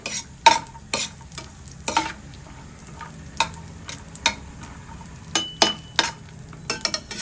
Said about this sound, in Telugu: డ్రై ఫ్రూట్స్ని ఫ్రై చేసుకుంటే టేస్ట్ బాగుంటుంది వేడైంది కదా ఒక్కొక్కటిగా వేసుకొని ఫ్రై చేసుకుందాం